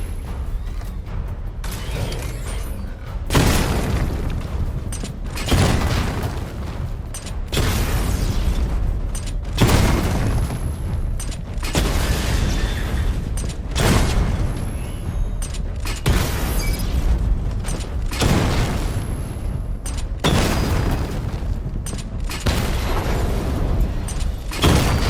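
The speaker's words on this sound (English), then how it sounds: "Charge the missile barrage to level 2 to destroy up to 4 targets at once." Missile barrage explosions from Batman: Arkham Knight, a steady series of loud, heavy booms roughly every two seconds over a continuous rumbling mechanical bed, with no talking.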